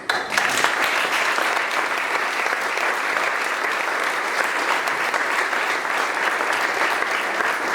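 Loud, sustained applause from an audience at the Palmells d'Or awards ceremony, steady dense clapping filling the whole stretch without speech.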